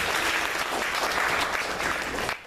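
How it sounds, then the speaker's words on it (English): Loud, close audience applause, a dense burst of clapping that holds steady and then cuts off abruptly. "Give them both a round of applause."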